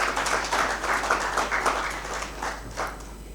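A conference audience at a winter school session gives a short round of applause for a panelist. The clapping is dense and moderately loud, with uneven bursts, and it eases off slightly by the end.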